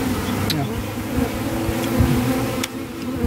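Bees swarm while being moved out of a cave, a dense continuous buzzing drone close by with a few sharp clicks and knocks mixed in, loud and unbroken throughout.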